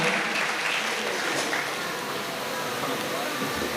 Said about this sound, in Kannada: ಒಮ್ಮೆ ಜೋರಾದ ಚಪ್ಪಾಳೆ ಮೂಲಕ ವೇದಿಕೆಗೆ ಬರಮಾಡಿಕೊಳ್ಳೋಣ